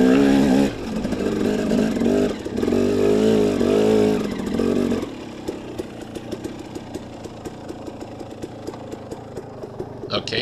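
A motorcycle on a rocky trail revs and labors in the first half, then drops to a lower, uneven engine note with scattered clicks and knocks. Speech is heard faintly alongside.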